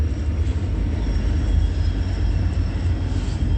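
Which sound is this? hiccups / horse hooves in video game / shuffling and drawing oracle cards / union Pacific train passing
union Pacific train passing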